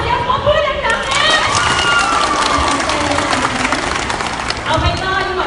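Audience applause and cheering at a Top Star Laos talent show, dense clapping with crowd noise and shouts running steadily throughout, with voices over it.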